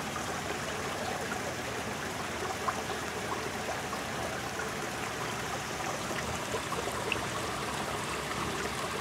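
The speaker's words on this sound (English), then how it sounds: "Beautiful sound of this little brook feeding into the pond." A small brook in a Japanese garden trickles and babbles steadily as it feeds into a pond, a continuous, fairly close water flow with no talking over it.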